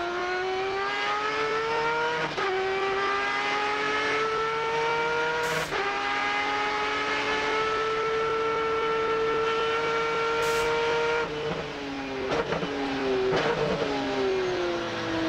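A Mazda RX-8 race car engine revs loudly and continuously at the Rolex 250 at Daytona, pitch climbing through gears with sharp drops at each shift, close and sustained.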